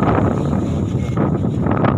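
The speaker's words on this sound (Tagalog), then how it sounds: "Ang lakas ng hangin niya talaga." Loud, steady wind roaring and buffeting the microphone, with low rumbling gusts that continue without a break.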